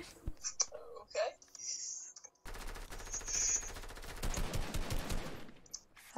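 Rapid automatic gunfire from a weapon in a video game, a sustained burst of dense repeated shots, with whispered talk before it.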